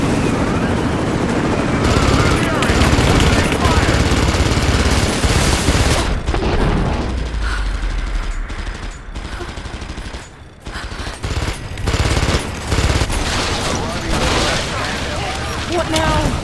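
Heavy sustained gunfire and machine-gun bursts from the video game Rise of the Tomb Raider, loud and dense with booms and a helicopter-like drone, while voices shout over the battle.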